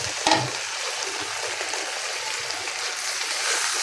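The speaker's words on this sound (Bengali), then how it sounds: "লাল লাল করে ডিম ভুনা করছি" Spiced eggs browning in a pan for egg bhuna sizzle steadily and close by, with one sharp clink at the start and no voices.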